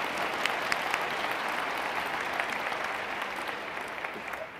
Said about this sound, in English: Well, I'm happy to applaud that, in fact.